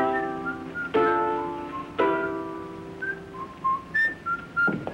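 Someone whistles a melody in clear, sustained notes, with two sharp knocks early on and a brighter run of short whistled notes toward the end.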